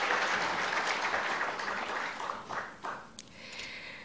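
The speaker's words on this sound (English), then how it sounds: "another big round of applause for Mr." An audience applauds the president's address at a winter school event, a dense, fairly loud burst of clapping that softens slightly toward the end.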